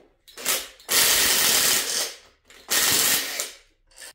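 Ratchet working loose the cylinder head bolts on a C5 Corvette LS6 engine teardown, rapid rasping clicks in two long sustained runs with short bursts between, close and loud.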